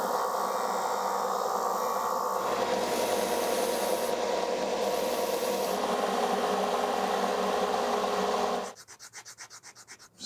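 Steady, close abrasive rubbing of 200 grit sandpaper smoothing a handmade sword and shield prop, continuous for about eight seconds before breaking into short rhythmic strokes at the end.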